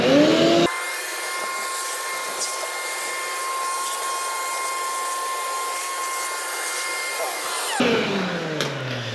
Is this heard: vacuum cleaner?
yes